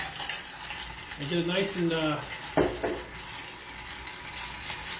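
A Last Word cocktail of gin and green Chartreuse is stirred over ice, with ice and metal clinking and rattling steadily at close range while someone talks over it.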